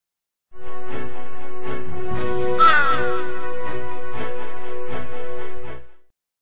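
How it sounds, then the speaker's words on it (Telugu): A pair of crows caw loudly and close up in a steady run of harsh, repeated calls with no talking. "ఇప్పుడు కాకుల జంట దాడి చేశాయి"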